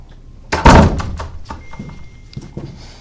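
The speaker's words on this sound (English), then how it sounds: "I'm going to shut this door." A door is shut with one loud, close thunk, followed by a few lighter knocks and rattles as it settles, in a room at a baseball media day.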